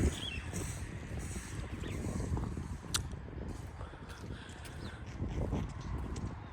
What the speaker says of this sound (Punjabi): ਹਵਾ ਠੰਡੀ ਠੰਡੀ ਚੱਲ ਰਹੀ ਹੈ ਜੀ